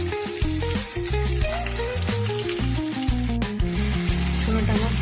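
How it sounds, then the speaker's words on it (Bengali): Chickpeas crackling in a covered wok over low gas, a continuous frying hiss running beneath loud melodic background music for the whole stretch. "ছোলাগুলো কড়াই দিলে একটু কাটবে"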